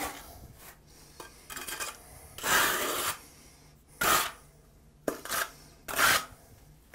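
A sponge rubs and wipes across a newly tiled custom shower wall in short scrubbing bursts with pauses between them, giving an irregular rasping rhythm at close range.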